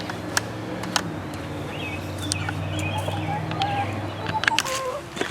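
Backyard hens cluck softly around a garden coop and run, with scattered low calls and brief sharper notes close by over quiet outdoor background.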